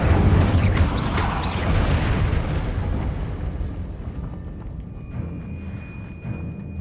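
Incendio fire spell cast in Hogwarts Legacy, a loud roaring burst of flame that swells at the start, then rumbles and slowly fades over several seconds.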